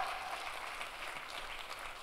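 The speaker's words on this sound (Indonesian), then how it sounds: "tepuk tangannya yang paling meriah buat Tuhan kita" Steady applause from a church congregation during a sermon fills the space, even and continuous, heard at a moderate distance.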